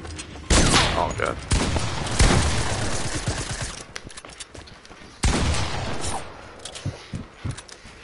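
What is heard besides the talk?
gunfire from a video game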